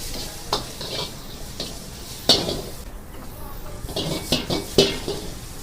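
Raw and boiled vegetables with cabbage being tossed for veg fried rice in a hotel kitchen pan, with repeated scraping, clanking strikes of a utensil against metal over a steady sizzle, close and fairly loud.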